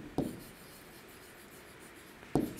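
Writing an answer by hand: two short scratchy strokes of pen or chalk, one near the start and another near the end, close and clear, with quiet in between.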